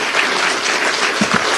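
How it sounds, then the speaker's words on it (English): An audience at a gun control and gun rights forum applauds the panelists, a brief, dense burst of clapping heard alone. "If you would, just give all of our panelists a big round of applause for a spectacular job."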